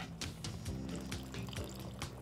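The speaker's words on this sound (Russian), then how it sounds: "Вот теперь кислота, уксус." Vinegar is poured into a Chinese-style sauce for squid, a faint, soft trickle and splash of liquid with a few small drips.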